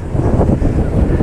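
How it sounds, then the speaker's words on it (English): Wind blowing on a hot, windy day outdoors along a riverwalk, a steady loud rush buffeting the microphone throughout with no talk. "It's windy and hot."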